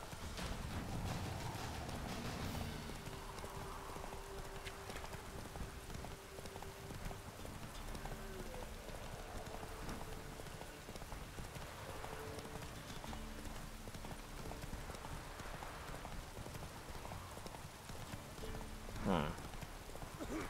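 Roach, a horse in The Witcher 3, trots with steady clip-clopping hooves through the Velen countryside, a continuous near rhythm under game music and a faint rain-like hiss, with a brief sharper burst near the end.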